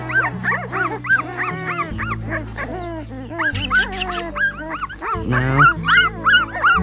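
Several young puppies about two weeks old, some with eyes just opened, whimper and yip in rapid, overlapping high cries, close and fairly loud, with a person speaking briefly over them.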